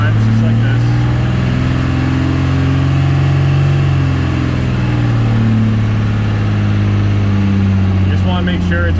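A Cummins 188/220 diesel engine running steadily during flat tappet cam break-in, a loud, close, continuous drone whose pitch rises and falls slightly as revs vary, with someone talking over it.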